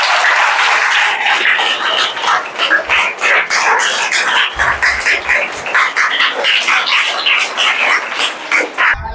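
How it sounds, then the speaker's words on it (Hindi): Loud, sustained applause from a school audience gathered for a children's rights assembly, dense clapping filling the whole stretch with a few irregular surges and no clear speech over it. "मैडम के लिए एक बार जोरदार ताली मारें।"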